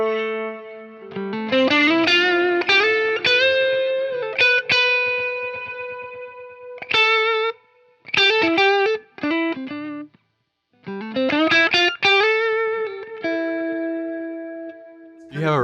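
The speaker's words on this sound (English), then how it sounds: "the way those echoes are then feathered into each other, really creates, like you were saying, where'd the reverb go?" A Keeley Halo Dual Echo pedal on electric guitar: picked notes and short phrases trail off into layered, overlapping repeats that blend together and ring on, with brief pauses between bursts of playing.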